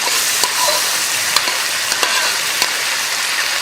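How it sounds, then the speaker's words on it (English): Ginger garlic chicken with vegetables sizzles loudly and steadily on a hot plate, a dense crackling hiss broken by a few sharp pops and scrapes, with no talking. "sizzling ginger garlic chicken with vegetables"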